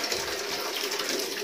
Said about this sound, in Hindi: मैं ये सब चीज़ों को गर्म पानी से धोना चाहती थी।